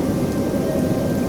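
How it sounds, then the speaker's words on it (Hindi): Heavy rain pours steadily in an animated story, a dense continuous roar with deep rumbling thunder mixed in, loud and unbroken throughout. "तेज बारिश के कारण किशन वहीं पे पेड़ के नीचे जाके खड़ा हो जाता है।"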